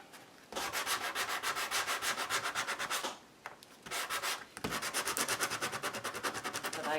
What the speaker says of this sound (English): Okay, now a sanding block.